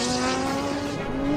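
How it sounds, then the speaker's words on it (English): Rhys Millen's race car launches hard off the starting line at Pikes Peak, a loud, sustained engine roar with a faint edge of tire squeal, close and continuous throughout. "Rhys Millen just took off from the starting line here."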